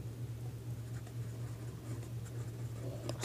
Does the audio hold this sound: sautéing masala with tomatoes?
no